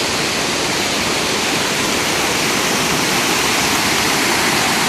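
Glendalough waterfall in Wicklow, Ireland, rushes with a loud, continuous broadband roar of falling water heard close up, steady and unbroken with no voices.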